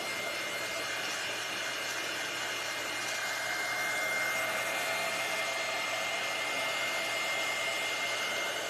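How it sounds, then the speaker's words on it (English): A handheld heat tool blows hot air steadily while a primitive snowman angel ornament is crafted, a loud continuous broadband whoosh that holds for the full stretch with slight swells and no speech. "because this is a heat tool, this is giving me a nice,"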